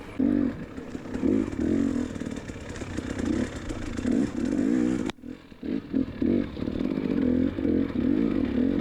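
A dirt bike rides a hare scramble race track, its engine revving and labouring in uneven pulses with clattering and scraping over rough ground, close and loud, and a brief dip partway through.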